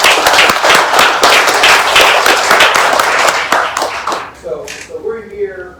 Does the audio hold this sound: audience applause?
yes